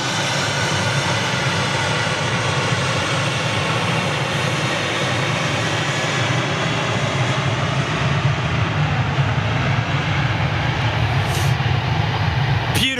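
Airbus A320neo with LEAP-1A engines taking off at Manchester Airport, a sustained loud jet roar with a low rumbling base that swells slightly toward the end, heard without talk.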